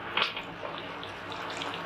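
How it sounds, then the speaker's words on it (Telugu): Water pours steadily into a meal maker curry in a pan, a short, continuous close splashing stream lasting under two seconds. "వాటర్ వేసుకుంటున్నాను"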